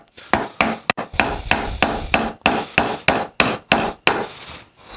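Hand chisel driven by a mallet into wood for a bowtie inlay, giving about a dozen sharp, close, evenly spaced strikes, each followed by a short scraping tail, with no talking.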